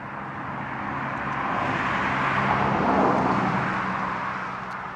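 A car passes along the road, its tire and engine noise swelling toward the middle and fading again, moderately loud and steady with no talking.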